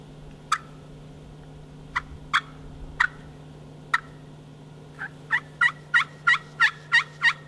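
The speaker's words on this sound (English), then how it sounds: "They aren't always going to gobble at you" A wild turkey gobbles in sharp bursts, spaced at first, then coming faster in a steady run, over a low constant hum.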